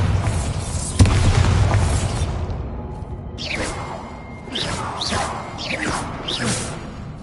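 Bombarda spell explosion in Hogwarts Legacy: a heavy booming blast with a sharp onset, then rumbling debris and swooshing magical effects that fade and return in rolling waves.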